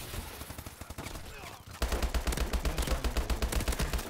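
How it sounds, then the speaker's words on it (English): Automatic sentry gun firing in a first-person shooter video game, a rapid, loud stream of shots that starts abruptly partway through and keeps going steadily to the end, following a stretch of quieter game noise. "Sentry gun."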